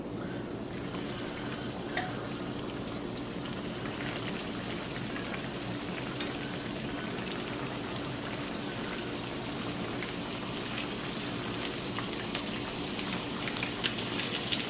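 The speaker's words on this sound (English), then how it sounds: "let's get some of this Spam fried up" Spam slices frying in a pan over medium-high heat give a steady, dense crackling sizzle that holds evenly throughout with no talking.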